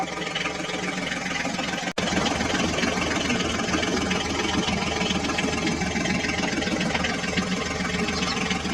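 A toy tractor's motor runs steadily with a continuous buzzing hum and one brief dropout, and no talking over it.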